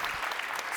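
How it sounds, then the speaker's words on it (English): A short burst of dense audience clapping at a European Mobility Week workshop, steady and moderately loud for under a second, with no voices standing out. "couldn't please give a warm round of applause to our volunteer."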